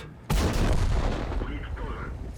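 Artillery fire in the World of Tanks game lands as a sudden loud boom with a heavy low rumble, then trails off into a long, rolling decay.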